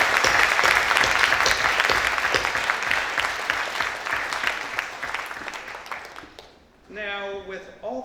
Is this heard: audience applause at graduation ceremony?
yes